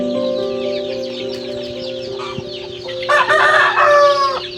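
Chickens cluck and chatter nearby over a steady background hum, then a louder burst of squawking and crowing rises near the end.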